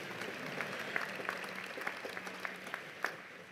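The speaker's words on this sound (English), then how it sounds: "It's definitely the only applause I ever got anywhere near law school" A law school graduation audience at a 2014 commencement applauds steadily but faintly from a distance, a soft continuous patter with a few sharper claps standing out.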